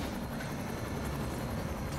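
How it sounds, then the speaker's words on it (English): A helicopter in the game Black Mesa makes a steady, loud, broadband rotor and engine roar that fills the whole span without a break and has no speech over it. "Helicopter."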